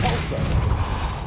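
Depulso spell cast in Hogwarts Legacy, a loud, brief thumping whoosh of magical force with a dense low rumble.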